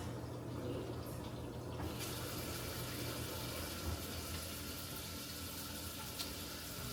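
Liquid being drained from cooked ground beef, a faint steady pouring and trickling wash that runs continuously and quietly throughout.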